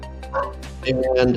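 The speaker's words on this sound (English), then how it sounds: "I know you guys can hear my dog barking in the background" A dog barks in the background, giving a few yapping barks and whimper-like yips while a person keeps talking in the foreground.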